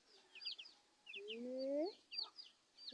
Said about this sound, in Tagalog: Ayan na siyang kulungan. Ayan. Chicken na chicken.